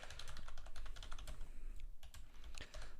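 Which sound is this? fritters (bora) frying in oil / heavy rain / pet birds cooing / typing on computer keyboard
typing on computer keyboard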